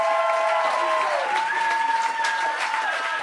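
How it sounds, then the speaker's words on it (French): Audience applauding comedians at the close of a live comedy show, a steady wash of clapping that runs the whole time while a voice with a sustained, almost sung tone carries over it. "On les applaudit!"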